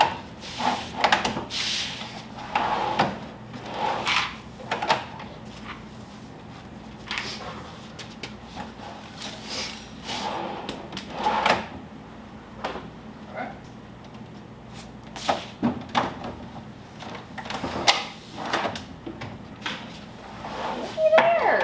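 A wooden vanity drawer slides in and out repeatedly with scraping, thudding knocks, while a person talks intermittently nearby.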